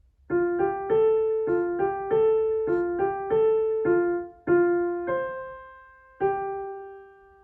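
A keyboard plays a simple melody from a Moana song in sustained notes, a steady run of evenly spaced tones followed by two longer held notes ringing out alone.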